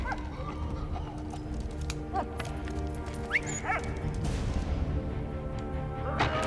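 A dog barks a few times within a World War I setting in the video game Valiant Hearts, short barks over a busy game soundscape with rumbling background and clattering effects.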